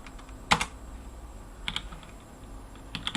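Keys clatter on a computer keyboard in short bursts: a quick cluster of taps, a pause, another small run, then a few more strokes, close and fairly clear over a quiet room hum.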